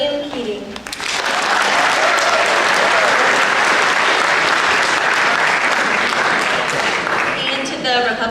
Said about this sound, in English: Please give a round of applause to the Democratic nominee,